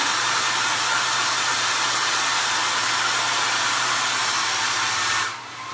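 Hair dryer blowing steadily to dry a DIY craft project, a loud close continuous whooshing roar that cuts off abruptly near the end.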